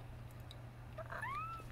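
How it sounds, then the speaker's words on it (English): A domestic cat gives a short, rising meow about a second in, quiet and close against a low steady hum in an indoor room. "yes, that's my cat."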